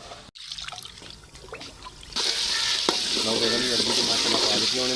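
Taro root and spice masala fry in a pot, first quiet then breaking into a loud steady sizzle with stirring and bubbling sounds close by.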